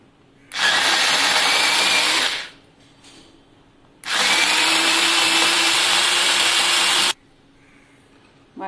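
Mixer grinder blitzing green chillies, garlic, sesame seeds and turmeric: two loud whirring bursts, one about two seconds and a longer one about three seconds, separated by a brief pause.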